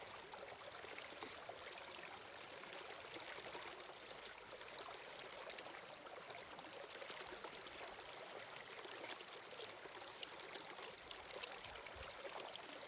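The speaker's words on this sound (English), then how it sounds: "you notice as the water splashes and flows and runs over the rocks, around obstructions" Water streams and splashes over rocks around obstructions, a steady, continuous broadband rush that stays close and even throughout with no voices.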